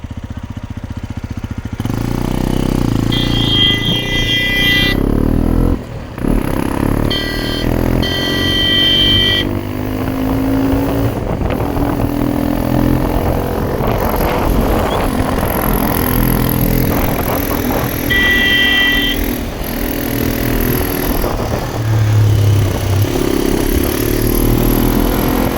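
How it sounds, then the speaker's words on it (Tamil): Vehicle arriving on a road in the Eastern Ghats, a loud engine rumble and revving close by, with shifting tones and brief pauses over most of the stretch. "வண்டி வந்துருச்சு."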